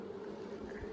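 Honeybees hum steadily at close range while a hive is opened for inspection, a continuous even drone with no voices over it.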